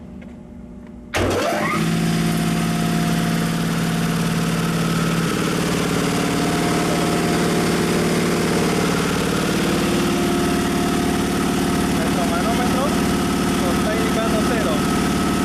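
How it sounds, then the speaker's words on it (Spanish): A piston air compressor's electric motor switches on after about a second and then runs loud and steady, a dense mechanical drone with a pulsing piston rhythm that holds without a break to the end. "Este es el botón que hace la apertura para que pueda ingresar la corriente y energice al motor."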